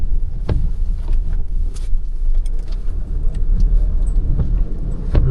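A car moves steadily through a flooded road in a rural village, a loud continuous engine rumble mixed with sloshing water noise and occasional knocks and clatters.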